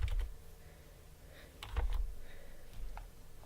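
Someone types a few quick keystrokes on a computer keyboard, sparse and close, with light clicks over a low background hum.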